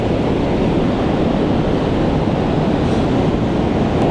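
Ocean surf rolls onto a beach in a steady, loud wash, with wind buffeting the microphone throughout and no clear individual wave breaks.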